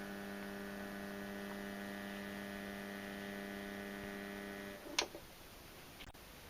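A Hornby Class 67 model locomotive in EWS livery runs slowly and steadily, giving a continuous motor hum with a faint regular tapping, then stops near the end, followed by a couple of brief clicks.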